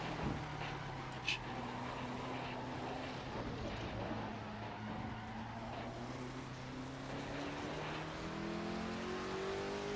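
A 1973 Matra Simca MS670 race car in a racing video game at Targa Florio drones steadily at high revs, engine pitch rising and falling through gear changes, with other cars audible nearby.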